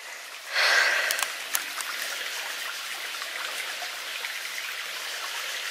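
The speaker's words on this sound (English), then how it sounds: "and I can hear water." A small stream trickles and babbles steadily along a countryside path during a hike toward a wood, a soft continuous wash of water with a brief louder splash near the start.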